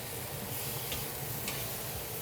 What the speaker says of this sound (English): Oh, they just sizzling.